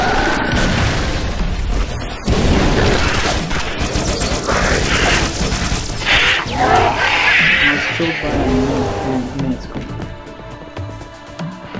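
A grenade going off during Halo 3 co-op on Legendary, a loud boom followed by crashing, bursting game noise, with excited voices talking over the chaos.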